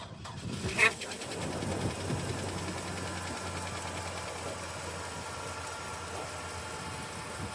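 A cold vehicle engine that had trouble starting turns over with a brief loud burst, then settles into a quiet, steady idle with a faint ticking rhythm.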